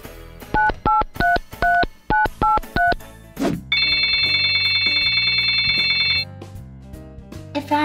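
A telephone is dialed with a quick series of eight touch-tone beeps, followed by a steady ringing tone lasting a few seconds, heard close and alone.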